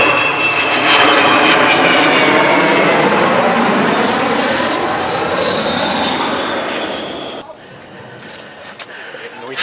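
An Avro Vulcan XH558 jet bomber with four engines flies past at the East Fortune Airshow, giving a loud, sustained jet roar that slowly fades toward the end while an announcer's voice carries over it.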